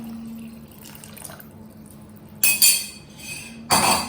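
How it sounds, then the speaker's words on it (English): Two short bursts of water splashing into a pot of curry, each a few tenths of a second long, with faint clinks and quiet background hum. "So I'm adding more water, like lots of water."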